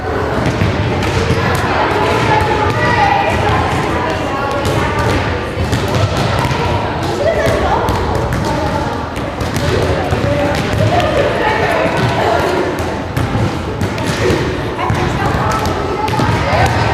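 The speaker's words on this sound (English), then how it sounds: "Make sure one person's tossing, one person's hitting right now." Volleyballs tossed and bumped again and again in a middle school gym drill, giving a dense, echoing patter of thuds and bounces throughout while voices chatter underneath.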